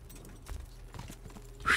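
Horse hooves clop in a few uneven, muffled steps in the medieval game Kingdom Come: Deliverance, set over a low ambient bed with a brighter sound at the very end.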